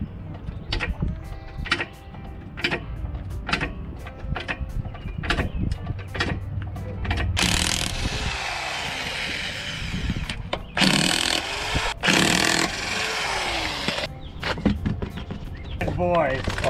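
An electric impact wrench running off an extension cord works the lug nuts on a Jeep fitted with huge new wheels and tires, giving several loud, short bursts of rattling hammering amid clanks and handling noise, with people talking around it.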